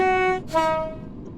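A passing train in a Roblox British Railway game sounds a short two-tone horn blast, loud and close, which breaks off and fades into a low rumble.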